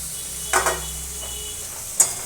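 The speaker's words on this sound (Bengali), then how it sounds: "একটুখানি নাড়াচাড়া করে নেব।" Spices and garam masala stirred in a hot pan for a rohu fish chop give a few quick scraping, sizzling strokes: two short bursts near the start and one sharp scrape near the end over a low steady hiss, with no talk.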